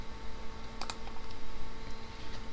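Typing an email address on a computer keyboard: a few quick, close key clicks clustered together over steady background hum, with no voices.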